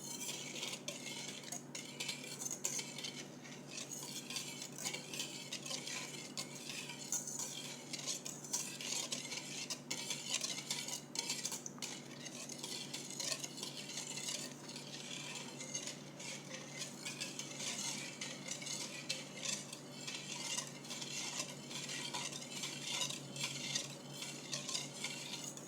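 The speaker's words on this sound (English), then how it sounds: "So we're just going to whisk this together." A whisk beats cinnamon roll ingredients in a bowl, a continuous fast rattling clatter of metal against the bowl that holds an even rhythm up close for the whole stretch, with no voices.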